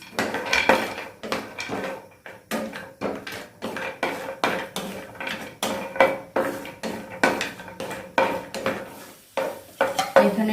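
Cashews and almonds fry in a pan while a spoon stirs them, making a steady rhythm of scraping, clinking strokes over a faint sizzle, close by and without speech.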